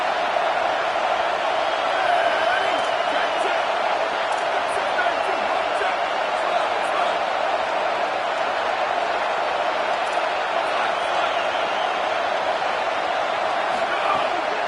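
A constant, dense roar from a stadium crowd in a college football video game, loud and steady without pauses for the whole stretch.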